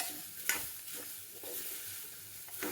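Jackfruit thoran with grated coconut being stirred in a pan, a soft steady sizzle with a few scraping spoon strokes, close and moderately quiet, no voices.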